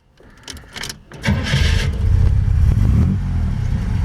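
A 1949 Chevy Deluxe coupe mild custom with a Big Six engine cranks with a few quick clicks and bursts, then catches and settles into a loud, steady rumbling idle close by.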